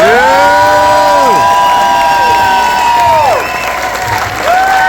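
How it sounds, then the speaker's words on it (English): Loud audience applause mixed with cheering and high whooping voices, sustained throughout with a slight dip near the end, at a celebration honoring people. "if we could please give a loud round of applause for our"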